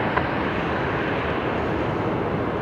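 A jet taking off from runway 19 left at Brisbane Airport, a steady broad distant engine roar that holds level throughout with no distinct peaks, heard from afar without any voices.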